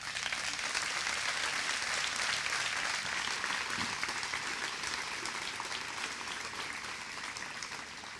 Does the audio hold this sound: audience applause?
yes